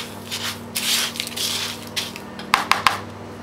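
Ingredients for KFC-style fried chicken being mixed in a bowl, a soft steady rubbing and scraping that swells and fades, ending in three quick sharp clinks close by.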